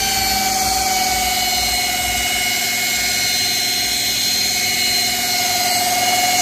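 Polishing machine buffing car paint with compound after 1500-grit color sanding, a steady loud motor whine with a constant tonal hum running unbroken throughout, no voices.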